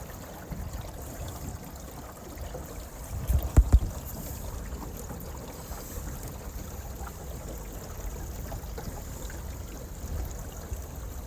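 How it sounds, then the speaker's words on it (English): A 14-foot flat-bottom boat cruises slowly under a trolling motor, giving a low, steady wash of water and wind with a brief louder knock partway through and no voices. "We got the trolling motor on it. We're just gonna troll out here a ways."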